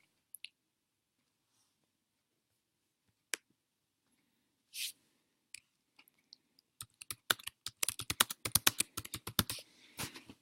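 Data is typed on a computer keyboard: a few isolated clicks come first, then a fast, dense run of close key taps, with no voices.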